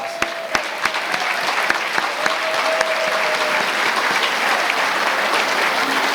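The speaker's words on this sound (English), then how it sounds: "So give them all a round of applause." An audience at an awards and induction ceremony breaks into full, dense applause. The sustained clapping is loud and even, with a few sharp claps standing out near the start.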